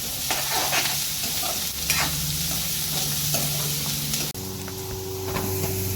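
Chopped onions being stirred into chana poha in a pan, a steady sizzle of frying under repeated scraping strokes, close and fairly loud, with a brief break near the end before the sizzle resumes.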